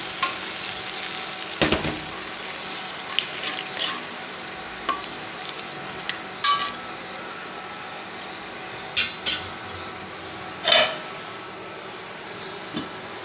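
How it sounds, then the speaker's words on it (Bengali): Spice paste and tomato stir-fry in a pan for egg bhuna, a steady close sizzle punctuated by the scrape and sharp clinks of a spatula against the pan at irregular intervals, with no talking. "মশলা আর টমেটো একসাথে দিয়ে ভালোভাবে ভুনে নিলাম"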